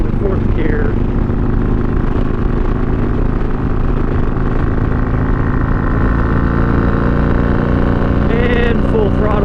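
Harley-Davidson Iron 883 motorcycle at full throttle in fifth gear, a loud, continuous engine roar with wind noise and a slowly climbing pitch, with a voice speaking over it.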